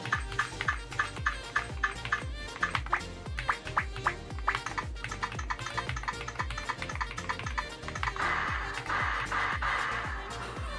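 A SKYLOONG GK104PRO mechanical gaming keyboard is typed on with its built-in key sound effects enabled, giving rapid, regular rhythmic keystrokes with electronic beeps, close and clear, thickening into a denser burst near the end.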